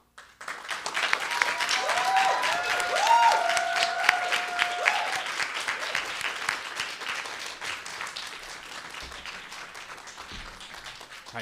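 An audience claps after a live story reading: sustained, dense applause from a crowd that swells in the first seconds, holds steady, then gradually thins and fades out.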